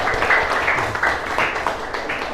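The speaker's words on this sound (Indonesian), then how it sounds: "Boleh kasih tepuk tangannya untuk kelompok 1." Classroom applause for a student group at a junior high school, a steady spread of many hands clapping throughout, fairly close and moderately loud with a few voices mixed in.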